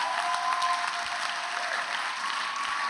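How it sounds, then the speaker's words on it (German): A church congregation applauds during an evening worship service, producing a thick, continuous wash of clapping that stays level and even throughout the short stretch. "Komm, wir geben doch Gott einfach einen Applaus für seine grosse Liebe am heutigen Abend."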